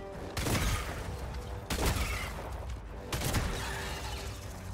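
Three heavy, spaced crossbow shots in Helldivers 2, each a sharp close impact trailing off into a low rumble, separated by roughly a second and a half of ambient game noise.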